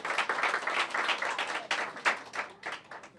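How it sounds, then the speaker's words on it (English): Applause for a third grade class at a DC Public Schools funding announcement, a steady broadband patter of many hands that holds across the whole stretch at moderate loudness, with no talk over it. "So please give those students a round of applause"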